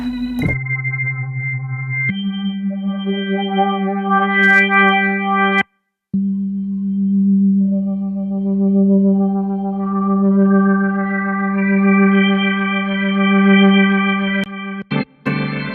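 Sustained tonewheel organ clone chords with rich harmonic drawbar tones, changing voicing a few times, with a brief pause midway and a couple of short clicks near the end.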